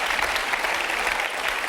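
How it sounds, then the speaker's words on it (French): Audience applause at a French stage show, dense steady clapping from a crowd filling the whole short stretch with no pauses. "Ah bah il applaudit Luc."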